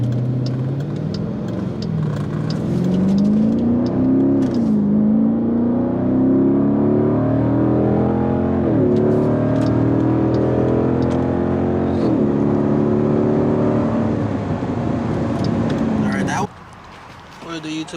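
A Dodge Durango SRT heard from inside, its engine rising and falling through repeated accelerations while driving fast, with people talking over the steady road and motor noise throughout.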